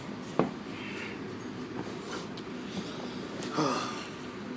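A passenger train rumbles steadily along the rails, heard from inside a carriage, with a couple of sharp clanks and a swelling rush of wheel noise.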